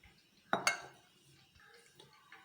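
A bowl is picked up and set down on a kitchen counter, two sharp ceramic clinks in quick succession close up, followed by faint small rustles and taps, no voices.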